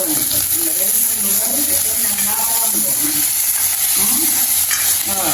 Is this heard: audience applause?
no